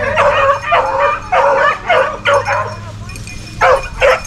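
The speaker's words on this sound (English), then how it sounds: "You hear that puppy opening now, though?" A puppy whimpers and yips in a series of short, high, urgent cries, about eight bursts with brief pauses between, close and loud against a quiet outdoor background.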